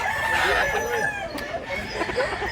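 Roosters crow and cluck at a poultry sale in Mantalungon, Cebu, several birds calling over one another at moderate distance against a busy background.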